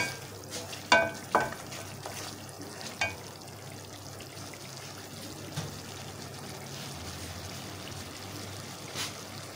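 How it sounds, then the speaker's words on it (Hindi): Afghani mutton cooks in a pot as fried onions are added, a low steady sizzle with a few clanking stirs and scrapes early on. "अब इसमें मैं तली हुई प्याज डालूंगी।"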